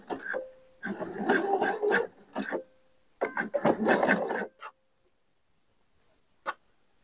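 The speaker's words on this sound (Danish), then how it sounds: "Nu har jeg så to lag, som jeg syr sammen. Det er simpelthen sidesømmen." A home sewing machine stitches a zigzag side seam joining two layers of knitted fabric, running in two close bursts of rapid rattling with a pause between, then stopping with a single faint click.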